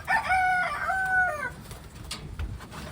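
A rooster crows among a group of hens, a clear close call lasting over a second, followed by faint clucking and low rustling of the flock.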